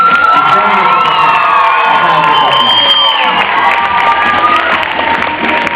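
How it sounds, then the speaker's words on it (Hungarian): Audience at a dance show cheering and applauding, loud crowd noise with whoops and shrill children's shouts over a bed of clapping, continuous and close throughout. "Úgyhogy nagy tapsot Tamásnak"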